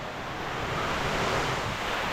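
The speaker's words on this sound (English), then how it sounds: "it's pouring" Heavy rain pours onto a tarp stretched over a structure sheltering an old C Hawk 29 fishing boat under restoration, a loud, dense, steady hiss that fills the space without a break.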